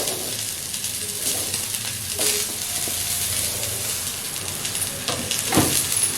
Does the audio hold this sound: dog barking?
no